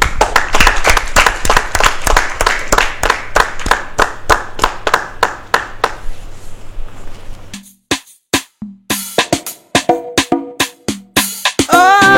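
Rhythmic clapping greets a singer, first a rapid run of sharp, evenly spaced claps, then after a brief gap sparser claps mixed with other sharp hits and a tonal sound near the end.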